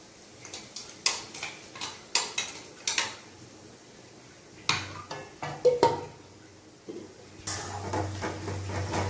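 Mutton curry being stirred in a metal pot: a steady series of sharp clinks and scrapes from a spoon against the pot, close and clear, easing into a low sizzling simmer toward the end.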